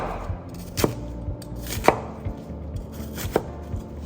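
A knife chops an onion on a cutting board while prepping Cantonese braised pork ribs with potatoes: three crisp, well-spaced chops, close and fairly loud, over a quiet room.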